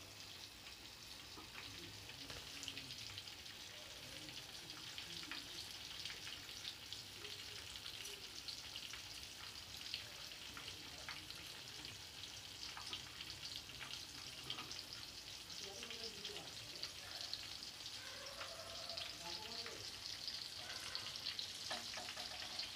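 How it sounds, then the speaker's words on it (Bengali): Lote (Bombay duck) fish chops coated in biscuit crumbs sizzle in hot oil over a gas flame, a steady dense crackle running throughout with scattered pops and bubbling, close and even, with no talking. "এবার আস্তে আস্তে করে গ্যাস কমিয়ে সব ভেজে নেব"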